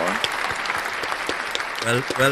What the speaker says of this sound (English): Hey, folks, round of applause for Paul for these comments